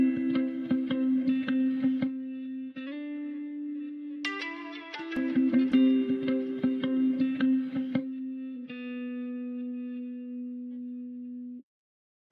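Layered guitar samples in an emotional FL Studio beat ring out together, sustained chords overlaid with bright plucked and strummed lines that swell midway, then fade to a held tone before cutting off.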